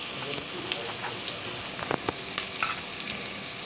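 Spices, coriander powder and biryani masala, frying in a pan for egg biryani, giving a steady soft crackling sizzle with a few small pops and clicks throughout.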